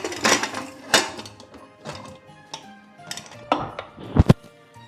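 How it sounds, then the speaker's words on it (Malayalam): A metal pressure cooker lid is fitted and closed over pork cooking in masala, producing a series of irregular clanks, scrapes and clicks at close range, with no speech. "നമ്മൾ കുക്കറിന്ന് അടച്ചു കൊടുക്കുകയാണേ."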